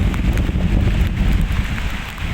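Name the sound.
strong wind during Typhoon Enteng at Manila Bay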